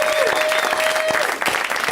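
A live comedy podcast audience applauds loudly and steadily for about two seconds, dense clapping with a few cheers and a sustained whistle early on.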